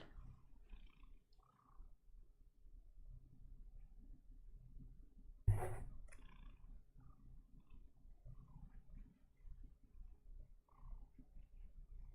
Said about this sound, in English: I wonder if you can hear his purrs.